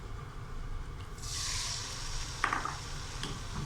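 Chicken frying in plenty of hot oil over full, high heat, giving a steady close sizzle with a brief sharp crackle of spattering midway and no talk.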